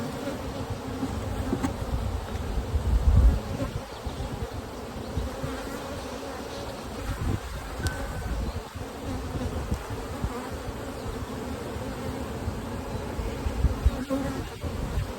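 Honey bees buzz in an opened nuc hive during a frame inspection, forming a steady, dense drone that stays close and constant throughout with no talking.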